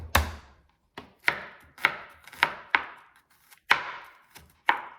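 A knife chops garlic into small pieces on a board: sharp, close knocks in a steady rhythm, about eight cuts with brief decaying ring after each, no voices.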